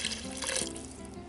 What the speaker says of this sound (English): I'll go ahead and put in more water